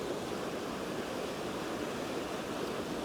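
Storm-driven surf washes in and out over a shoreline, a continuous dense hiss of foaming water, steady and close with no voices.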